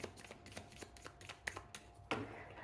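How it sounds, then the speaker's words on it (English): A deck of tarot cards is shuffled by hand in a rapid series of soft riffling flutters and light slaps, close but quiet, ending with a sharper tap as the cards settle, no one talking. "I'm gonna shuffle thrice."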